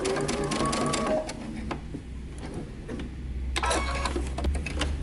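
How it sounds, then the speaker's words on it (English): A sewing machine stitches along a dart line and runs off the edge of the fabric, its needle rattling in quick close bursts with a brief pause midway. "Follow your dart line. I want you to sew completely off of your fabric, don't backstitch."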